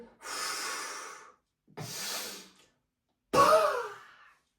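Three forceful exhales during a bodyflex breathing exercise, each a loud, breathy rush of air lasting about a second, separated by short silences, the last one sharper and strongest.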